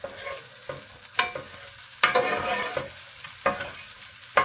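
A sauce sizzling in butter in a pan for garlic prawns, with steady frying hiss broken by a few loud stirring scrapes and clatters, close and clear with no talk.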